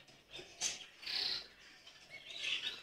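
Small finches chirp in an aviary at dawn, giving thin high tweets and short calls that come and go against a quiet background, close but soft.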